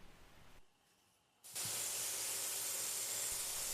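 A belt sander with 150 grit sands the edges of a wooden magazine loader, starting with a brief hiss, dropping almost silent, then cutting in as a steady, loud, broadband whir that runs on continuously.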